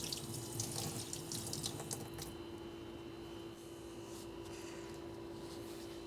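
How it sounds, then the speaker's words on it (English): A kitchen tap runs while something is rinsed during brioche baking. The water gives a steady close hiss with some splashing and squishing early on, and then settles into an even flow. "Do a little bit of a rinse of that."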